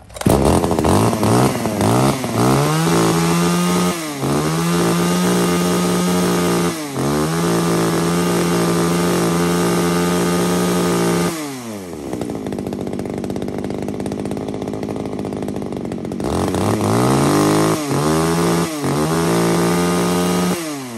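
A used Japanese chainsaw, one of a lot of Stihl, Hitachi, Echo and Tanaka saws, runs loudly and close, revving in repeated bursts, dropping to a rough idle midway, then revving up again several times.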